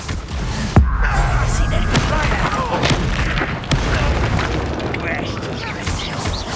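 Confringo explosive spell blasts in Hogwarts Legacy, sharp booming impacts at irregular intervals over a rumbling battle backdrop, loud and close, with a character speaking briefly between them.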